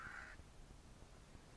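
A hungry bird gives one short, harsh caw-like call while begging insistently for food, then quiet background follows; no one speaks.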